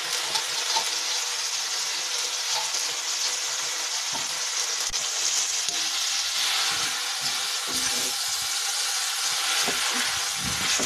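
Mustard flowers are tossed into a pan of sizzling fried green garlic, giving a continuous frying hiss with scattered clicks and scrapes from stirring.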